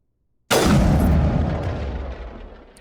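A single heavy blast from Mass Effect gameplay, loud and booming, with a long rumbling tail that fades over about two seconds, following a brief silence.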